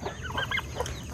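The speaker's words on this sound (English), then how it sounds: "So that is a gobbler." A turkey gobbler calls up close on a backyard farm, a short burst of warbling, clucking notes rising and falling over about a second, alone with no talk over it.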